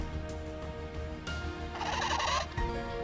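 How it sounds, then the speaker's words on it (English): A loud bird call from the video game Ys X rings out in bright, harmonic squawking bursts over a continuous game soundtrack, strongest in the second half of the clip. "What the hell was that bird so damn loud?"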